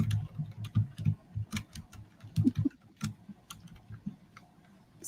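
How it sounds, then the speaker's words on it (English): Computer keyboard typing during a knitting-themed live chat, with irregular clusters of sharp key clicks and taps, fairly close and moderately loud, with no voices. "Sorry if you guys can hear me typing."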